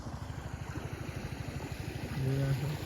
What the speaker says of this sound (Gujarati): હવે બાઇક લઈને અમે ઘરે જઈ રહ્યા છીએ